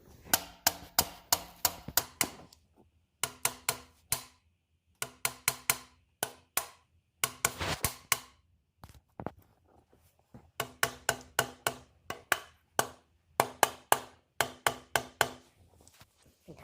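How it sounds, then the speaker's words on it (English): Repeated rubbery knocks of a rubber hammer tapping a tight part into a Gen 1 Coyote Mustang engine land in quick bursts of several blows, pausing between groups, close and fairly sharp, with no voices. "Give me that rubber hammer."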